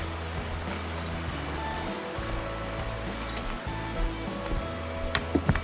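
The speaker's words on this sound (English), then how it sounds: "Water's flowing pretty quick." Shallow stream on the Bruce Trail near Toronto rushes quickly beneath a footbridge, a steady, fairly loud wash of flowing water with a few small splashes.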